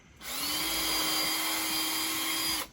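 A power drill pre-drills holes into wooden desk boards for 2-inch screws, giving one steady, high motor whine that holds for about two and a half seconds before stopping, close and clear with no talk.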